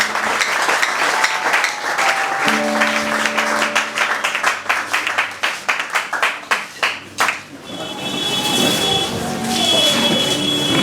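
A church congregation claps in rhythm to acclaim the Lord, loud and close, with sustained keyboard-like tones underneath; the clapping speeds up, then stops, leaving only the held tones ringing.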